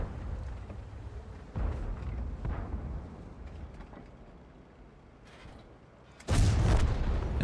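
World of Tanks battle sounds with a KV-1 tank: several heavy cannon booms and impacts, the loudest blast near the end, over a continuous rumbling background.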